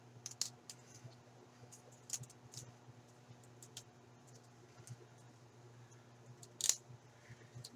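Scissors snip small paper pieces for a handmade craft book, giving faint, sparse clicks and cuts scattered over a quiet hum, with one sharper snip near the end.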